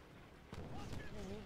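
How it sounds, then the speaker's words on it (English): A grenade blast in the World War II shooter game World at War lands as a sudden booming burst midway, with rumbling gunfire-like noise after it and a voice shouting over the action. "Grenade!"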